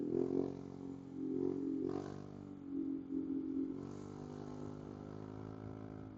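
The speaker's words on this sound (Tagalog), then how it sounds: "Bale, 7 motor kami na bumiyahe ngayon." A group of seven motorcycles riding along a road in Laguna, including Yamaha NMAX and Honda Click scooters, giving a steady close engine drone with rising and falling revs and some rattling, with no talking.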